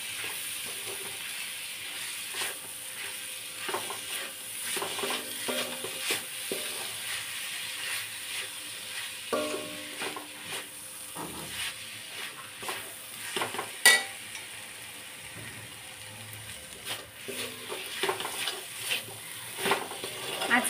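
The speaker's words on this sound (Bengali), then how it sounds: "দিয়ে আবার ভালো করে এটার মধ্যে মেশাবো।" Grated coconut mixture stirred in a pan for coconut sweets: soft, faint scraping strokes and low sizzle repeating irregularly throughout, with occasional clinks of the spoon.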